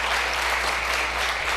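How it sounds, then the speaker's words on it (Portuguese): Church congregation applauding, a continuous dense patter of clapping with a low steady hum underneath and no speech. "Você pode aplaudir a Jesus?"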